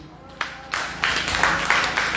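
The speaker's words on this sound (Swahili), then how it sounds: "Pigie Yesu makofi." A church congregation claps their hands for Jesus in several loud, spaced bursts of applause that swell and carry on over a low room murmur.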